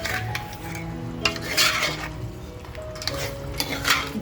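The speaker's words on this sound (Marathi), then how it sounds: "छान असं परतवत राहायचंय" Mutton for kala mutton is stirred in a pan over a full gas flame as its juices release, a spoon scraping and clinking against the metal in repeated strokes over a soft sizzle.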